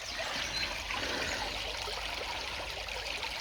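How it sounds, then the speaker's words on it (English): Fast water rushes and trickles through a shallow stream or brook, a steady broadband wash that stays constant and close throughout with no speech over it. "Fast flowing waters."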